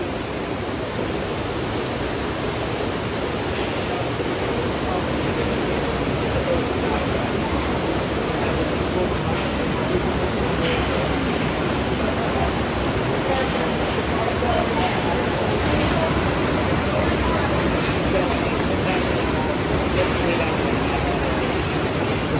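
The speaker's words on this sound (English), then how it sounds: "they plume them out with water, so it's more gentle, so they just wash them out the trailer" Water jets flushing carrots out of tipping trailers at a large carrot processing plant make a steady, loud broadband rush with no break, like a close waterfall with a faint babble of machinery underneath.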